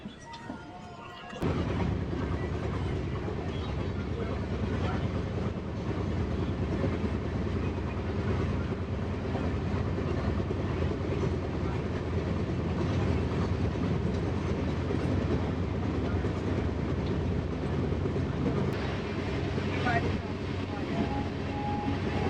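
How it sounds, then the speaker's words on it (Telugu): Steady rumble of the KSR Bengaluru-Mysore superfast express rolling along after leaving Maddur, a continuous close, loud rail noise that runs for the whole stretch with no voices. "మద్దూరు నుంచి మన ట్రైన్ బయలుదేరింది."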